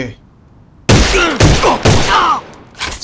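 A K-2 rifle fires in the online shooter A.V.A: four loud, close, sharp bursts of gunfire in quick succession, each with a ringing tail, coming after a short quiet pause.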